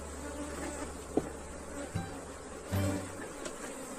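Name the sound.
Africanized honeybees buzzing at an opened hive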